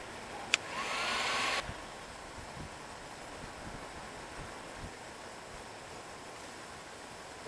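Heat gun warming sprinkler pipe fittings, a steady blowing hiss that runs for about a second before fading into a low windy background with soft thumps.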